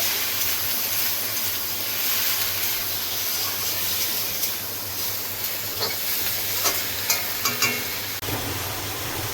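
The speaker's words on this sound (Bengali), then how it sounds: "ক্যাপসিকাম, টমেটো দিয়ে দেবো, এগুলো দিয়ে আরেকটু ভেজে নেব" Onion, capsicum and tomato frying in a pan for Bengali-style egg chili, a steady close sizzle over a low constant hum, with a few sharp clinks of stirring toward the end.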